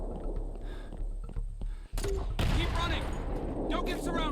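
Gunfire in the zombie shooter Into The Dead 2 rattles in loud, dense bursts over a steady game background, with a player talking over the shots.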